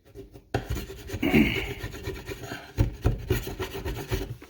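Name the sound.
putty knife scraping flakes off particle board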